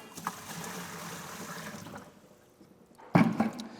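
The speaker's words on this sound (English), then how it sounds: "you're going to add a cup or 2 of water to the hopper" A cup or two of water goes into a ChamberGuard sprayer hopper: a soft trickle and sloshing, then after a pause a short, louder splash close by near the end.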